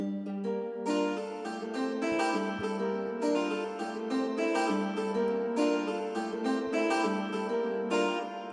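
A guitar counter melody rides over an Afrobeats beat made in FL Studio, layered tonal parts moving in a steady groove, loud and continuous with no voices.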